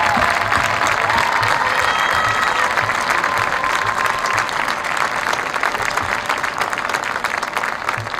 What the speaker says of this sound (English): Let's give it one more round of applause.